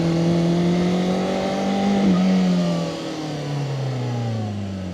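A VOGE RR500S inline-four motorcycle revving up and easing off while riding, its engine note close and loud, rising and falling steadily with no one talking.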